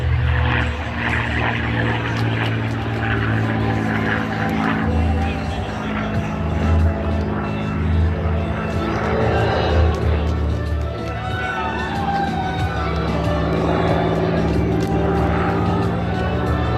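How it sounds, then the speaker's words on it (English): North American P-51 Mustang flying aerobatics at a Memorial Day air show at Jones Beach State Park: a continuous, droning propeller-engine roar rising and falling in pitch, loud, with a commentator speaking over it and crowd noise underneath. "Let's watch Tom Richards now as he performs an aerobatic ballet showing off the Cadillac of the sky, the North American P-51 Mustang."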